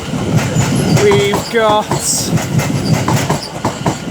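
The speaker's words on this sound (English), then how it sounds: "We've got 710 departing here, going to Euston Junction." A Class 710 electric train departs London Euston, rumbling with rhythmic wheel clatter and a brief rising squeal of traction or wheels, close and loud while someone talks briefly over it.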